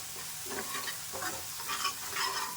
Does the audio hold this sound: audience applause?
no